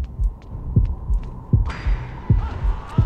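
Heartbeat thumps pulse steadily in a Horrorfield match, deep and fairly loud with a low hum beneath, while a brighter game tone joins halfway through.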